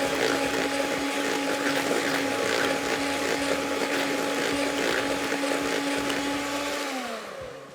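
An electric mixer beats cheesecake batter in a loud, steady, close whir with a constant motor hum that winds down at the end as the machine is stopped.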